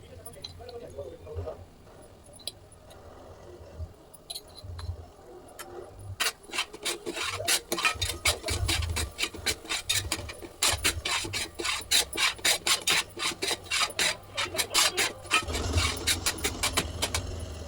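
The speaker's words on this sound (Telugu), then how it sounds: "ఇవన్నీ బాగా తిప్పేసుకొని మళ్ళీ మూత పెట్టేసి ఒక 2 నిమిషాలు మనం ఫ్రై చేసుకోవాలి." A spatula scrapes and stirs coriander powder and garam masala into egg biryani masala in a pan, with rhythmic, rasping strokes that grow louder and faster.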